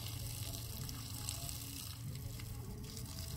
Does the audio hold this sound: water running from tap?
yes